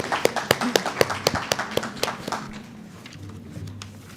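A small audience at a national flow cytometry conference claps in a distinct, fairly sparse rhythm of separate claps that thins out and fades after about two seconds, leaving faint room noise.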